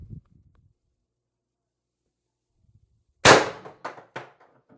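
A single sharp crack from a Umarex TR50 CO2 air rifle fitted with a tuning barrel extension and 90 gram CO2 cartridge, loud and close after near silence, followed by a couple of fainter metallic knocks.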